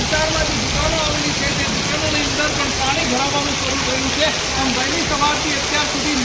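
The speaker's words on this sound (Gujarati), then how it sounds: "ફરી એકવાર સાંજના સુમારે અત્યારે વરસાદ શરૂ થયો છે" Steady rain pours over a market street in North Gujarat, a dense hiss throughout, with a vehicle engine and indistinct voices faintly underneath.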